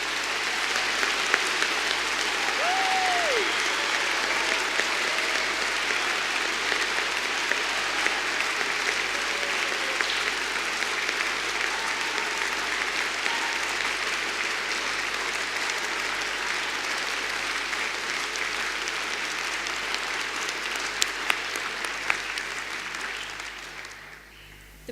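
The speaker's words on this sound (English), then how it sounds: "Graduates, our last chance to give you one last huge round of applause" A long, steady round of applause from a large audience at a University of Birmingham degree ceremony for graduates, dense and even throughout, over a faint low hum, tapering off at the very end.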